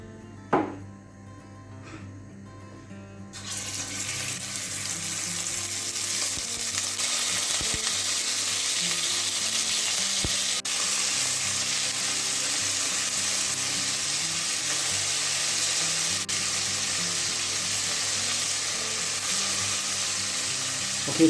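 Beef pieces browning in a little oil in a pot, searing in batches: after a quiet start with a light clunk, a steady, loud sizzle and crackle of frying runs on without a break.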